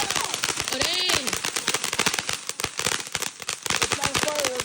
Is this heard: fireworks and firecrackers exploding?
yes